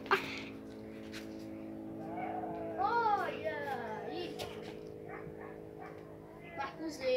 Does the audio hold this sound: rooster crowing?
no